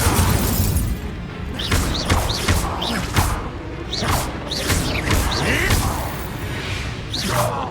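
Magic spell effects in Hogwarts Legacy, including the Incendio fire spell, come as repeated loud whooshing bursts and booming impacts in an irregular rhythm over a rumbling game soundscape.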